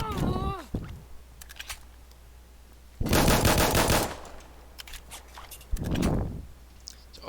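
M1911 .45 pistol fired in Insurgency: Sandstorm, a few sharp, loud shot bursts spaced apart, with mechanical clicks and handling noises in between.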